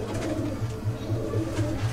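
A Madrasi pigeon coos in a soft, rhythmic low burbling that repeats steadily, close by, with a faint room hum beneath and no talking.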